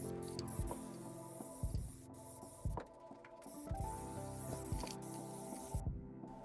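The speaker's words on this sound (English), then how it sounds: "I do 2 coats of clear coat spray." An aerosol can of clear coat hisses in a series of short and longer bursts, separated by brief pauses, close and fairly loud.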